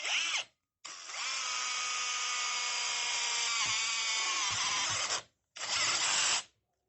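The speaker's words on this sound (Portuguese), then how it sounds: "Vou utilizar um fluido de corte para lubrificar a broca." A 5-in-1 cordless screwdriver drilling with cutting fluid on the bit, a loud close steady whine that starts, holds for several seconds, stops briefly, then runs again in a short burst.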